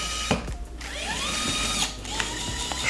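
A MINI ES121 electric smart screwdriver backing out a screw, a brief high motor whine rising and falling with small clicks of the bit, close and alone.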